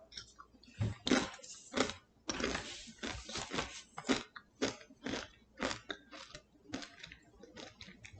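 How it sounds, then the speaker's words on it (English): Close, crisp crunching of Doritos chips being chewed, a rapid run of loud bites and crackly chews that keeps going with short pauses in between. "let me eat some Doritos"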